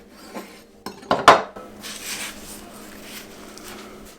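A fried Mac Toast style sandwich is cut in half in a pan, giving a few sharp knife-on-pan clinks and a crunchy scrape in the middle, followed by quieter rustling.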